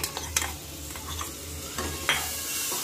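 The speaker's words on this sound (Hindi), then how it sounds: "अब हम इसमें एक टमाटर जो हमने काटा छोटा उसे डाल देंगे" Chopped tomato frying with masala in a pan, with a steady close sizzle under a few sharp stirring scrapes and clinks, no speech.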